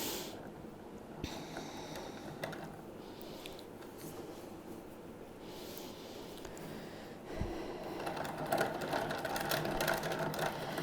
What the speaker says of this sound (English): I usually like to wind off a little bit extra that I'm then going to wind onto the ball winder